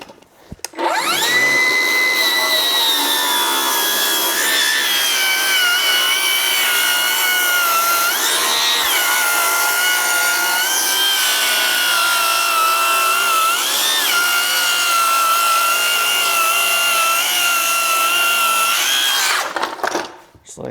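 A power saw set to a 45-degree bevel whines loudly through wood for a chicken coop build, one long continuous cut that spins up, holds steady for about twenty seconds, then winds down.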